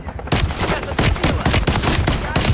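Rapid gunfire in the video game Call of Duty: Modern Warfare III, a dense run of loud, close shots in quick bursts that barely pause across a couple of seconds, with faint speech mixed in.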